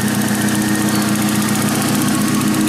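A VW Parati 1.0 16v with a GT17 turbo idles at a warm 95 degrees, its thin oil letting a faint lifter tick through. The steady, even engine drone holds alone and close throughout.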